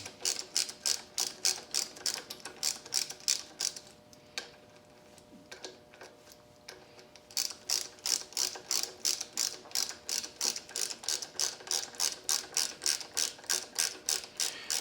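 A motorcycle clutch lever adjuster is screwed down with rapid, regular ratcheting clicks. The clicks come close and crisp, pause for a few seconds midway, then resume at the same quick rhythm.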